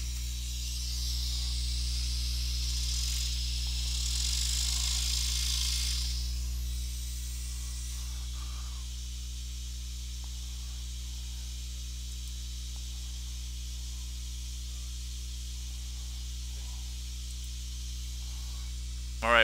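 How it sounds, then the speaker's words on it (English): Air hisses from a scroll saw's dust blower tube, a steady broadband rush that is loudest for the first seven seconds, then drops to a faint hiss over a low machine hum until a brief sound at the end. "See if I can get rid of my blower now."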